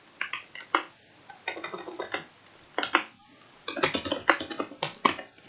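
Names being typed into Excel on a computer keyboard, close crisp key clicks arriving in irregular quick bursts with short pauses between words, with no voice over them.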